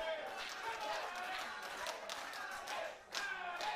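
A wrestling crowd at a WAW show roars and cheers for Alex Young in a loud, continuous wash of voices and claps, swelling briefly near the end; a commentator's voice sits low in the mix.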